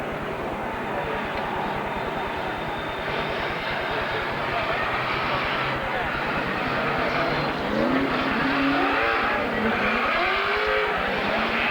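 Race cars at Rockford Speedway in 1994 roar continuously as the field circles the track, with engine pitch sweeping up and down as cars pass, and an announcer talks over the din.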